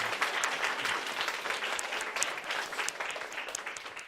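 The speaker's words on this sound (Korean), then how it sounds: "우리 스님 다 같이 박수로." A church congregation claps together to welcome a Buddhist monk from Tongdosa temple, a steady, moderately distant patter of many hands with scattered sharper claps standing out, continuing evenly throughout.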